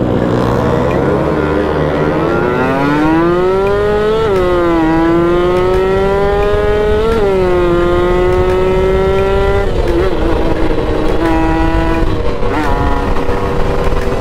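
A loud motorcycle engine at a race track, one of a group including an RS150, RFi, Mio, DTR 200 and KR, revs in long rising and falling pulls, holding a high-pitched whine up close with no talk.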